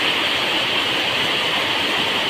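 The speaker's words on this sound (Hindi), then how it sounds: "ये देखो बारिश का पानी, बहुत सारा पानी गिर रहा है।" Heavy rainwater pours down outside a company building in Gujarat during a monsoon downpour, a dense, steady rushing roar that stays loud and unbroken throughout, with no voices over it.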